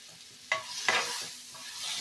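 Tomato, spices and chilli powder frying with bori in a pan for chola masala, with a steady soft sizzle and two sharp stir scrapes early on, no voices.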